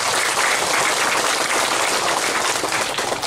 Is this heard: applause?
yes